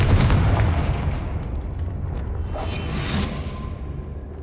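Confringo explosion spell cast in Hogwarts Legacy, a close booming blast with a whooshing impact that decays into a rumbling tail over a few seconds, with no speech.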